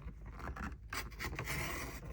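Paper being trimmed for a bullet journal spread: close, quiet scraping and rubbing strokes of a blade or scissors through sheets, in short uneven bursts.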